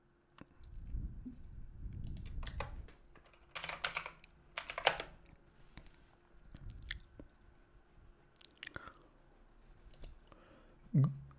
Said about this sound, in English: enter your password.